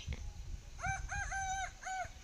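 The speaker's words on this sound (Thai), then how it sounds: "ไก่ขันหน่อย" A rooster crows nearby on a construction team's site at dawn, one drawn-out crow broken into several rising and falling segments over faint background noise.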